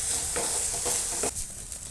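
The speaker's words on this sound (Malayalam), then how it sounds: "ഒന്ന് മഞ്ഞൾപ്പൊടിയും കൂടി ചേർത്തിട്ട് നന്നായിട്ടൊന്ന് വഴറ്റിയെടുക്കാം" Chicken and onions with turmeric sautéed in a pan for a Kerala chicken and coconut-bits thoran, a steady close sizzle broken by several scraping stirs, the frying dying down slightly toward the end.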